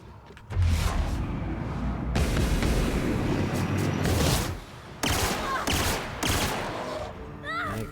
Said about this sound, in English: My gun works.